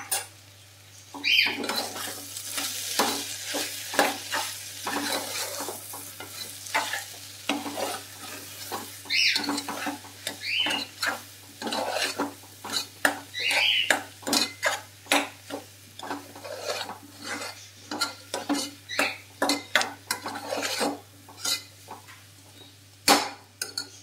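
A spoon stirs carrot and chana dal curry with cumin powder in a pan, giving steady repeated scraping and clinking strokes over a soft sizzle, close and fairly loud, with no talking.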